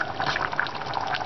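Sauce pours steadily into a pot of chorba hamra, a soft continuous liquid gush and trickle with no talk over it.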